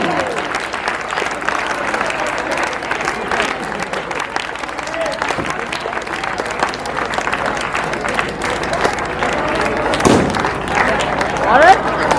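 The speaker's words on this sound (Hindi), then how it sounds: "आप अपने गुरुजन का जोरदार ताली से स्वागत करते रहे।" Loud, sustained applause from a crowd welcoming teachers at a Teachers' Day tribute event, dense clapping running throughout with a few thuds and a brief surge near the end.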